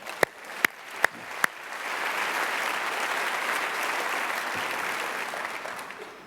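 An audience at a community breakfast applauds graduating seniors: a few sharp early claps build into sustained, even applause from a roomful of people, with no speech over it.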